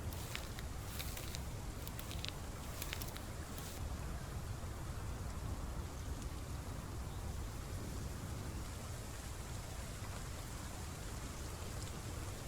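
Rain pours in the Path of Titans dinosaur game, a dense, continuous hiss of drops on surfaces with a few brighter splashy patters early on, holding steady and fairly loud with no one talking.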